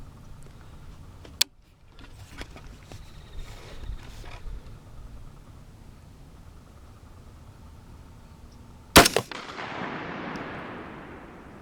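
Two sharp rifle reports at an outdoor shooting range aimed at a 100-yard paper target, the first a crisp crack early on and the second louder and followed by a lingering, fading echo, with quiet handling clicks between.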